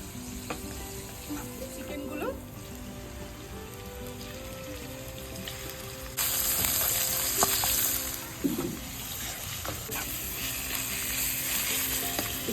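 Lemon-garlic fried Maggi noodles cook in a pan on a cold balcony in Denmark, giving a steady close sizzle with occasional stirring clinks, which swells louder midway and stays continuous throughout.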